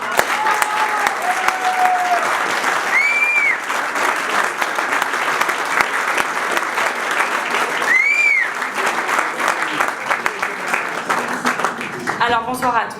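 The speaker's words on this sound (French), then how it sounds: "Des applaudissements s'il vous plaît pour Catherine Panattoni et Rohan." A festival audience applauds continuously in a dense, moderately loud wash of clapping, with a few faint whistles and murmurs mixed in and brief voices near the end.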